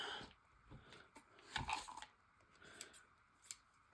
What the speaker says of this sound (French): je vais couper au-dessus de ça